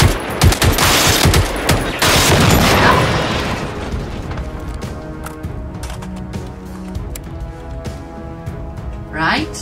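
Loud gunfire erupts in the video game Generation Zero, a dense burst of rapid shots in the first few seconds fading into a rumbling tail, with a voice talking.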